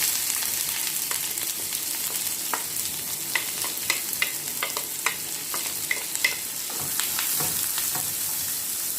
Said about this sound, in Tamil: நான் 2 வெங்காயம், பெரிய வெங்காயம் கட் பண்ணி வச்சுருக்கேன், அதை இது கூட சேர்த்துக்கிறேன்